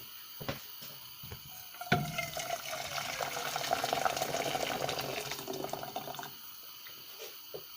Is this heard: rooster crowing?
no